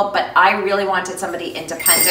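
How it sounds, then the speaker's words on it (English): A dog rings a bell hung by the door to ask to go outside; bright metallic chimes break in near the end, partly under steady talk. "That is my dog. I've taught her when she wants to go out to ring a bell."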